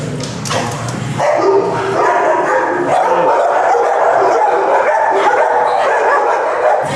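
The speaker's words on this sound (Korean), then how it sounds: "드디어 애견 카페 왔습니다. 기다리던. 오, 잠깐, 강아지 너무 많은데?" Several dogs in a busy dog cafe bark and yip over an indoor crowd and room noise, a dense continuous mix with a sharp bark near the start.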